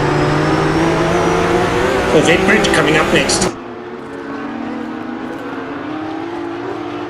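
Porsche Supercup race cars at Road America roar past loudly with a high engine whine for a few seconds, then the sound cuts to a quieter, distant engine drone while a commentator talks throughout.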